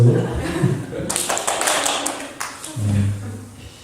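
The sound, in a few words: congregation applauding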